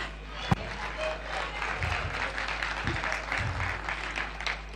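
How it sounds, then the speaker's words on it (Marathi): An audience applauds a children's performance at a school cultural event, with steady massed clapping that holds for several seconds and a few louder claps near the start. "लहान मुलांसाठी एकदा जोरदार टाळ्या"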